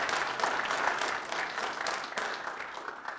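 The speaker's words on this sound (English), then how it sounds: "So if we could give Keith a round of applause." Audience at an annual meeting claps in a brief, moderate round of applause, fairly even and slowly fading, with no talking on top.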